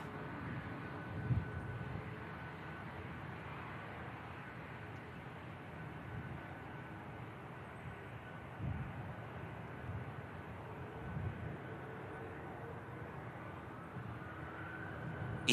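EasyJet jet airliner engines spooling up at Manchester Airport, a steady broadband roar that holds fairly constant over the whole stretch with a few small bumps, heard from a distance and alone.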